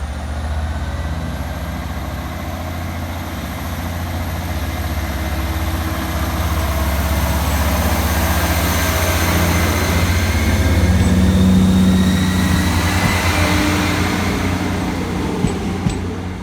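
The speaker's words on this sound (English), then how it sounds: "Departing next from the station will be 158-731, working the 1823 Scotrail service from Cowden Beef through to Edinburgh Waverley." A Scotrail class 158 diesel unit, 158-731, pulls away from North Queensferry station with a low, steady engine drone that slowly builds in loudness, heard from nearby.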